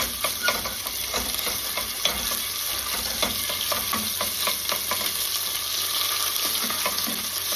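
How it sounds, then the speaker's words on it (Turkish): Tomato paste fries in a pan with onions, a steady bright sizzle and crackle with scattered scraping stir sounds, close and continuous. "Bunları iyice kavurduktan sonra"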